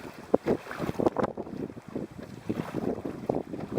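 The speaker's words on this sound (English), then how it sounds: "The wind is gusting to probably 40 kilometers an hour" Strong gusts of wind roar and buffet the microphone while someone paddles a boat on a lake in winds near 40 km/h, surging and easing unevenly throughout with no talking.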